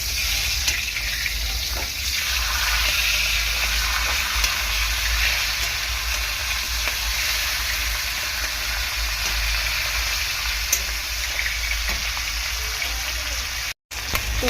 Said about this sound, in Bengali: মাছের মাথাটা দুটি ভালো করে ভেজে নেব।